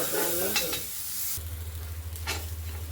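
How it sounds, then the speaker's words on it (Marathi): Peanuts roast in a spoonful of oil while a spoon stirs them, giving a steady close sizzle and scraping that eases into a quieter crackle over a low hum. "हे आम्ही दाणे मस्त भाजले गेलेत आणि आपण चमचाभर तेल घातला होता ना"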